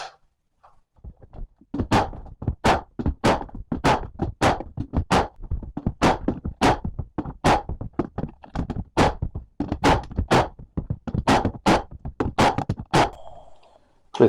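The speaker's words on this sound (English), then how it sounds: "then I come back through with the nail gun and I pop in some nails" A nail gun fires nails into wooden floor boards, about two dozen sharp, close pops in an irregular but steady rhythm, with quiet gaps between shots.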